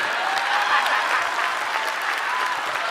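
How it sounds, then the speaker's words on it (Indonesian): Members of a studio audience at an Indonesian stand-up comedy competition semifinal applaud after a roast set, a dense, even burst of clapping that holds steady and fairly loud throughout. "Tepuk tangan buat Eja Saputra."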